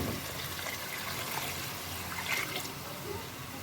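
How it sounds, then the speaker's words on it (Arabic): Water poured into a cooking pot, a steady trickling and splashing stream running the whole time at moderate level with no speech. "نحط المية بقى"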